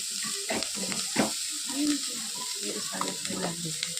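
Onions fry in a pan with a soft continuous sizzle, broken by scraping stirs and light clatter from a utensil, heard up close and moderately quiet.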